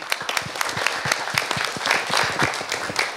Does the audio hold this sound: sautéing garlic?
no